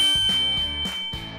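Bright bell dings ring out three times in a steady rhythm, each tone clear and sustained before fading, with no voices.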